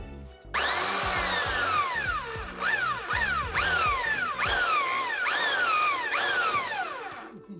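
A power drill bores a hole for a water purifier line, whining up loudly and then bogging down and revving again in repeated pulses, close and continuous for several seconds.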